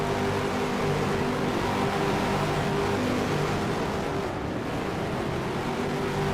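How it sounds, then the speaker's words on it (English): In a racing video game, race cars pull out of the pit lane under caution, their engines a steady, dense droning roar that holds level and continuous with no voices. "You see cars making their way out of the pit lane."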